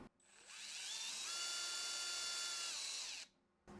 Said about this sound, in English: colloquially known as a twist drill